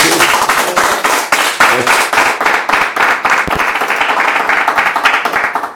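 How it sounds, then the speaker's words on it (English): A small audience at a talk gives loud, close-up applause, with rhythmic individual claps prominent over a dense clapping wash that holds steady and then starts to taper off. "Good luck with the programme, and everyone a round of applause for Chris, please."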